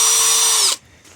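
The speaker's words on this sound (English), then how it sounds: "now it's time to drill." A power drill whines steadily at high speed while a car speaker is installed in a Volkswagen Touareg, loud and close, then cuts off abruptly, leaving near silence.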